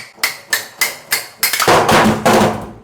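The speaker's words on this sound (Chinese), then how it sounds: "拔不起来的话，可以这样子敲" A plastic faucet trim cover is tapped to knock it loose during a faucet repair, four sharp evenly spaced knocks followed by a rapid, louder flurry of hits, close and with no voices.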